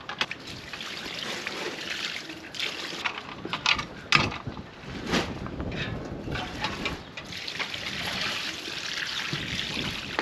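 Water mixed with phosphoric acid is poured and swished over a milking canister lid in a goat dairy, a steady close trickle and splash with a few louder sloshes midway, no talking.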